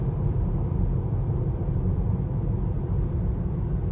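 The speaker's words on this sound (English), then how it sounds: "There's just the slightest bit of wind noise" Steady broadband wind and road rumble fills the cabin of a Tesla Model 3 cruising at about 55, a continuous, even hush with no engine note and no voices.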